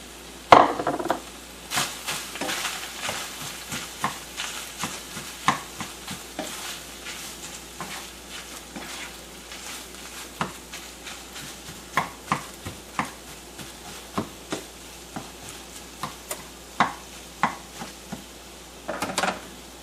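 Ground beef and onion stirred in a pan for a lasagna filling, a steady run of sharp utensil scrapes and knocks against the pan over a faint sizzle, close and fairly loud, no voices.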